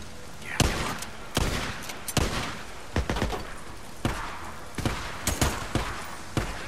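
Separate gunshots in the video game Days Gone, sharp loud cracks spaced irregularly about a second apart, some in quick pairs, over a quiet background with faint voices.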